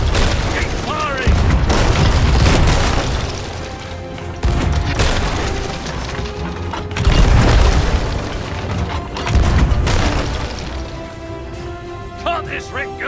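Ship cannons in the pirate video game Sea of Thieves fire in heavy repeated booms a few seconds apart, loud and close, over ongoing battle noise and shouting voices.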